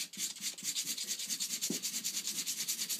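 Fine-grit sandpaper rubbed rapidly back and forth over a snooker cue tip, a quiet, close, rhythmic scratching with many even strokes.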